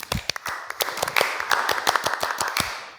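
A group does an Indonesian scout (Pramuka) clap together in a steady, rhythmic pattern of sharp hand claps, fairly close and continuous, with a few quicker bursts mixed in.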